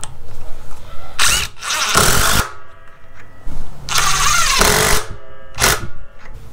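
A Craftsman CMCF820 impact driver drives screws into wood in four loud, close rattling bursts of one to two seconds each, separated by brief pauses.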